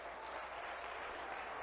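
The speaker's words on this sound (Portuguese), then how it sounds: "dê um aplauso a Jesus nessa noite" A church congregation claps together during an evening service, a dense, even wash of applause from many hands that is moderately distant and goes on without pause.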